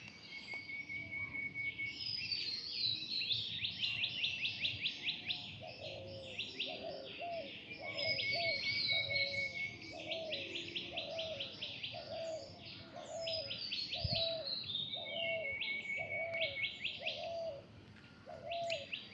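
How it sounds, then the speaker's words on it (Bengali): A spotted dove coos in a slow, regular series of soft low calls outdoors, while other small birds chirp and twitter busily around it throughout. "এই যে গুগু পাখি ডাকতেছে"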